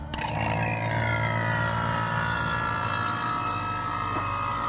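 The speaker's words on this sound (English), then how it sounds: "go ahead and start your vacuum pump" Harbor Freight vacuum pump running steadily on the A/C system of a Dodge Dakota 4x4 with a 5.2L engine, a loud continuous motor drone that starts abruptly and holds level, close by with no talk.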